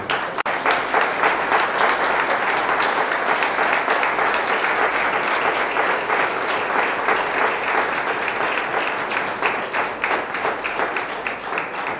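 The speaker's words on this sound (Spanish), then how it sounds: "Vamos a darle un fuerte aplauso." Sustained loud applause from a church congregation honoring the mothers standing at a Sunday Easter-season Mass, a dense wash of many hands clapping steadily for about twelve seconds with no voices on top.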